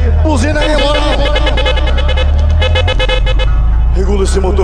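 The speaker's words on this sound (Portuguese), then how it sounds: "Buzina aqui! Buzina aí, moral!" Loud, continuous horn tones from a Volkswagen Passat blaring over its rumbling engine at a car meet in Colares, with shouting voices mixed in and a second horn blast near the end.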